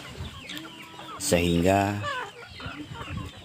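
Village chickens raised at a small home farm cluck and call in a short burst near the middle, with a person speaking briefly before and under the birds.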